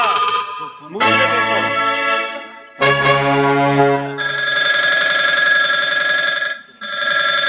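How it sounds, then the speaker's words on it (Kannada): A telephone rings repeatedly with a bright, sustained electronic ring during a Kannada stage drama, interrupted by short pauses, while voices speak over it in the opening seconds. "ಈಗ ಫೋನ್ ಬರ್ತಾ ಇದೆ ಸಾಹೇಬ್ರೆ"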